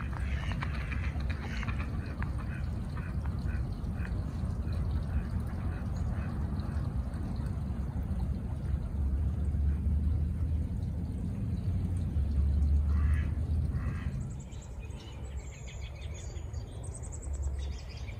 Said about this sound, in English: let's go see if there's any water and or ducks in the pond, but I can hear them.